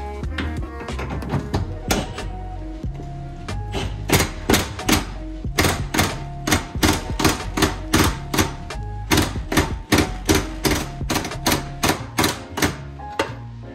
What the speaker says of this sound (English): This M18 Milwaukee half inch impact. I'm not torquing it down crazy.